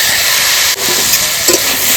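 Green peas go into a pan of frying potatoes and spices, setting off a loud, steady sizzle that hisses close up for the whole short moment, broken by a brief dip and a few small pops.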